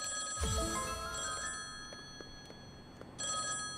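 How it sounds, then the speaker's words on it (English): A telephone rings inside the Train Station Project video game, a bright electronic bell trilling in two bursts separated by a short pause, clear and close with no talking. "Yes, I hear the phone."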